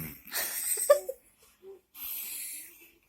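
A small child imitates snoring with breathy, wheezy snorts, a rasping burst then a second hissy exhale after a pause, close to the microphone.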